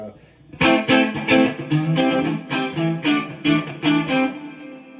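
Electric guitar on a clean tone through a single neck pickup, playing a funky rhythmic pattern of repeated chords with short gaps between strums, loud and close, with no talking over it.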